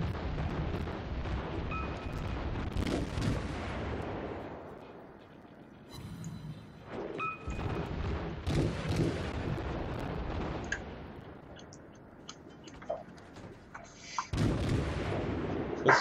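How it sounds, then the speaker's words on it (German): Heavy naval guns booming in a warship battle game, several deep, rolling salvos at irregular intervals amid a constant low rumble, with faint game noise between them. "ich schieße immer noch auf ihn"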